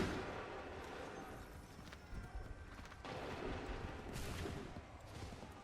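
Musket volley fire in Assassin's Creed 3, a dense, noisy crackle of distant shots and battlefield rumble rolling on steadily, with a few sharper bursts standing out.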